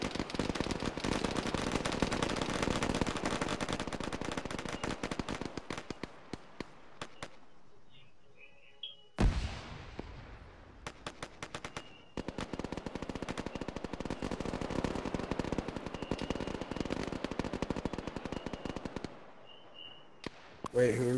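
Sustained automatic gunfire in ArmA 3, dense rapid bursts with a couple of brief pauses and sharp cutoffs, loud and close, filling most of the stretch.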